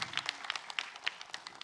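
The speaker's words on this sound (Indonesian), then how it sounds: "tepuk tangan dong buat Ustadz Syam dong" A studio audience at an Islamic television talk show claps briefly, with quiet, brisk, scattered applause running continuously for a moment at a modest distance.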